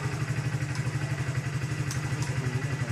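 A new Hero Splendor Plus motorcycle engine idles nearby at a delivery showroom, its steady low rapid thumping putter even and unchanging with no voices heard.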